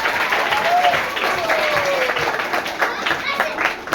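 Applause from a studio audience for a student contestant on a Kannada quiz show, a dense, steady patter of clapping that runs the full length with a faint voice-like tone briefly over it.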